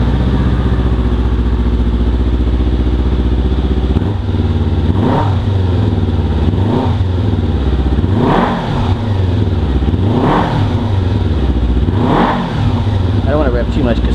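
Kawasaki Ninja 300 fitted with a Yoshimura R-77 full exhaust, idling with a deep steady burble, then blipped repeatedly in sharp throttle revs about every two seconds, loud and close, each rising and falling quickly.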